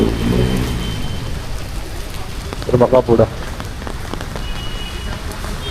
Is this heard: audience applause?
no